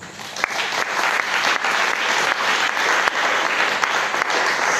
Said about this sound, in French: Acclame d'abord Jésus.